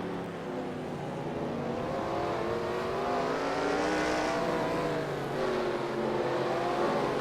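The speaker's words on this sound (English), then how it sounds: "It's hard driving a road course in a stock car like this." A stock car engine on a road course in a racing video game drones steadily and loudly, with its pitch rising and falling through gear changes and throttle shifts over several seconds, and no talking over it.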